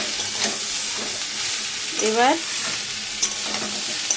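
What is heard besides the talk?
frying spice mixture in a pan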